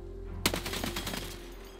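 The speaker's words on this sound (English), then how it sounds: "this, ladies and gentlemen, is why I love the mountain machine gun" A short burst of machine gun fire in the video game Escape from Tarkov, a sharp first report followed by a rapid string of shots that tails off into echo, with no voices.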